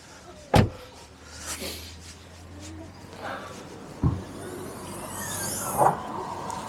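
Front trunk of a 2021 Tesla Model 3, a manual non-powered frunk, being unlatched and opened: a sharp nearby thunk, then softer clunks and a creak, with birds cooing faintly in the background and a low hum.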